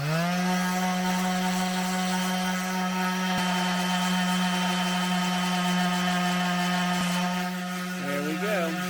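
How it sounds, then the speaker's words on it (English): An electric sander works a bevel into a wooden camera mount, producing a steady, loud motor whine with a low hum that holds nearly unchanged throughout and shifts slightly near the end. "So I'm going to sand some off, and I'm just going to do it with a sander."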